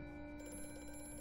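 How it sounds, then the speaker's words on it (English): A telephone rings inside the video game Amnesia, a steady electronic ringing tone held throughout at low volume, with no talking over it. "Oh, phone call."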